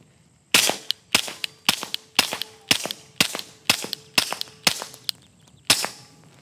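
A PSA Dagger pistol fitted with an 18-pound recoil spring fires a steady string of about ten loud, sharp shots at an even pace, each crack ringing out alone with no talking.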